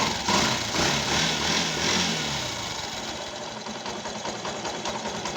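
A Yamaha YT motorcycle engine idling after a new ignition and spark plug were fitted, a steady, even, close mechanical rumble with fine rapid ticking, running alone without talk.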